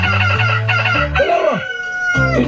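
A rooster crows loudly and close by in a single long call, followed by shorter throaty clucking notes. No voices are heard.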